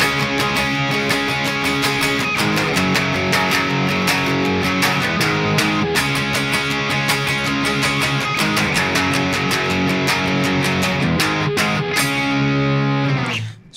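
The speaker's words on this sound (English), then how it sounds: "There is a rhythm guitar part playing underneath that lead, and so the rhythm guitar will sound like this." Heavily distorted electric rhythm guitar churning out continuous eighth-note power chords for a pop-punk song, dense and loud throughout, shifting between chord positions and cutting off abruptly at the end.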